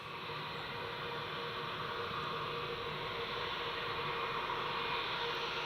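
A steady, broad roar of an aircraft at Newcastle Airport carries on evenly without breaks, a distant jet-engine rush with no voices.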